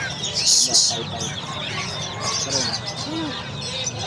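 Caged birds chirp and tweet in short, bright bursts at the Bocaue pet market, mixed with busy market background noise and some chicken-like calls, fairly close and moderately loud.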